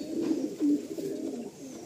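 Pigeons in a loft give low, rolling coos, a few soft throaty phrases close by with a brief louder swell in the middle, with no talking over them.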